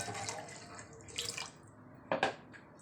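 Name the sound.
water poured into masala for kofta curry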